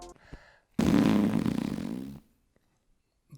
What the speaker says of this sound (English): Fart joke.